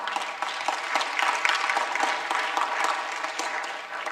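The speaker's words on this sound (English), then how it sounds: "we can really clap for them" Sustained audience applause fills a hall at a business forum, a dense, even wash of many hands clapping at moderate volume throughout, without a break and with no clear speech over it.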